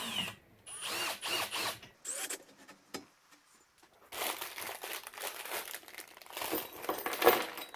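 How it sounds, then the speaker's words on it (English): LED light bar mounts are bolted onto a UTV roll cage with 4mm Allen bolts and lock washers, heard as bursts of close power-driver whirring, ratcheting clicks and rattling hardware with short pauses. "these mounts simply bolt onto the roll cage with the included 4mm Allen bolts and lock"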